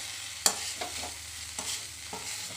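Drumstick and potato curry being stirred and lightly fried in a pan, with a few sharp spoon scrapes and knocks over a soft, steady sizzle.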